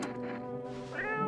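A cat meows in a video game, one drawn-out tonal meow with a rising second part, close and fairly quiet, with no talking.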